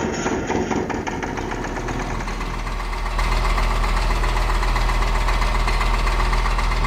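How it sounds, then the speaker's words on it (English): A small tractor engine in Farming Simulator 25 runs with a steady low rumble that swells louder partway through, continuous and close, with no talk. "What I want to try and do is see if I can use that little tractor."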